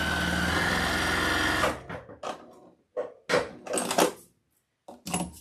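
Domestic sewing machine stitching a seam on a sewn Easter bunny wreath attachment, a steady rapid motor-driven chatter for about two seconds, then short stop-start bursts of stitching with brief pauses between.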